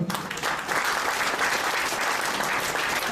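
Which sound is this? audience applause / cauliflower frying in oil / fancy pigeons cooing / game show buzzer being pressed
audience applause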